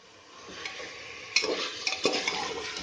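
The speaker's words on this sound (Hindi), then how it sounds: "तीन 4 मिनट और भून लेते हैं अभी कीमे के साथ भी।" Mutton and mince fry in a pan for rara mutton: a soft, steady sizzle broken by several sharp scrapes and clinks of a spoon stirring, close by and with no talk.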